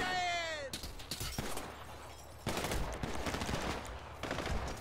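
Gunfire in Grand Theft Auto V, bursts of rapid shots and cracks in irregular clusters, with a brief whistling tone at the start and mid-level game noise.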